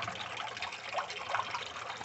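Water falls into a tilapia tank in a backyard aquaponics setup, a steady close splashing trickle that runs unbroken with no voices.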